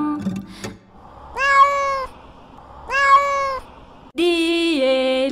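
A cat meows in a children's song, giving three clear, drawn-out meows spaced about a second apart and then a brighter, higher tone at the end, close and prominent with no talk.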